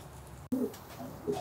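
Racing pigeons coo softly at close range in a loft, with a few low throaty calls after a brief cut in the sound.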